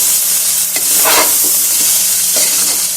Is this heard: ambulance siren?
no